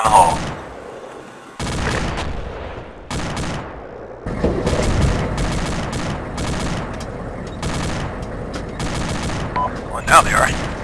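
Sustained machine gun fire in the military video game ArmA 2, repeated loud bursts of shots separated by short gaps over several seconds, with voices talking between the volleys.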